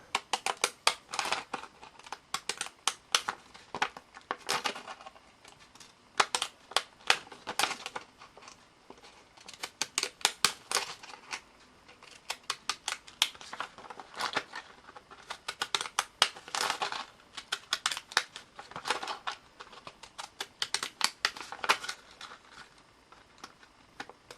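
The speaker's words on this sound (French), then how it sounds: "Je découpe tout le périmètre de mon cercle avec mes fameux ciseaux." Scissors cut a paper circle in quick bursts of crisp snips, pausing and resuming steadily, quiet and close.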